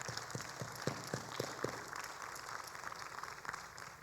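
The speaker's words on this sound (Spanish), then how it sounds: "Dale un fuerte aplauso al Señor." A church congregation applauds in the background, fairly faint. A few distinct hand claps stand out near the start over the wash of clapping from the crowd.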